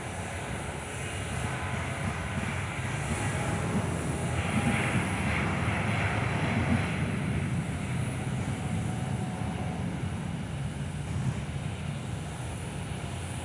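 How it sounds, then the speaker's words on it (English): An Air New Zealand airliner on its takeoff roll, engines at full power, gives a steady, loud, broadband roar that holds constant throughout, with some wind buffeting on the microphone and no voices. "Air New Zealand, they're burning now."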